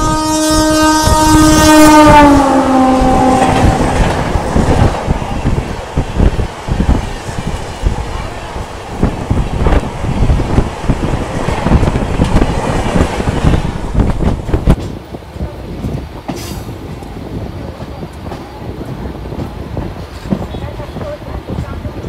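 An express train races past at speed on the Howrah–Digha line, opening with a loud horn blast, then a close, heavy clattering roar of wagons that rumbles on and gradually eases.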